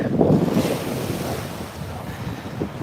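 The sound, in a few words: wind blowing at Lake Wakatipu, Queenstown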